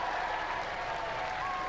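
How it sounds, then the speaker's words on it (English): A studio audience at a robot combat competition applauds, a brief, steady wash of clapping heard at a moderate distance. "Give him a round of applause, ladies and gentlemen."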